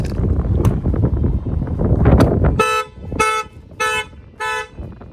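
After a blow to a tire sets off the shock sensor, a 2020 Mercedes E350 car alarm sounds four loud, evenly spaced horn-like honks, following a stretch of windy, rumbling noise.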